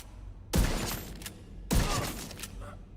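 Two loud rifle shots in The Division 2, about a second apart, each a sharp blast with a booming low thump that rings out and tails off.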